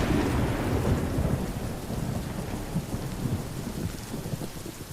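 Loud, continuous thunder and dense pouring rain fill a lightning storm in the video game Solarpunk, the rumble strongest at the start and easing slightly, with no voices.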